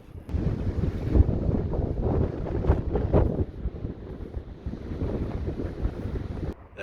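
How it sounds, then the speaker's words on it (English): Headwind buffets the microphone while cycling on a mountain road along the Icefields Parkway, giving a continuous low rumbling roar that gusts and swells, with no speech. "Oh, except for the headwind,"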